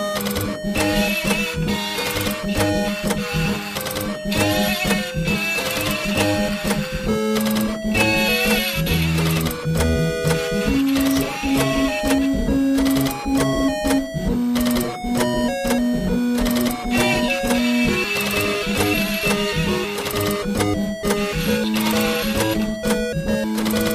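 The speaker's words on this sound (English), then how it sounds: "This entry played the song on an orchestra made up of a ZX Spectrum, a dot matrix printer," Song performed on old computer hardware: a ZX Spectrum, a dot matrix printer, a scanner and hard drives, giving a loud, continuous mechanical buzzing melody with stepped tones over steady clattering rhythm.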